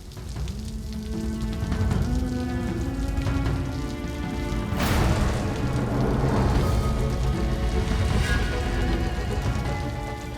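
Steady rain falls outside near a hospital, a continuous wash of drops with music or tonal background layered over it throughout.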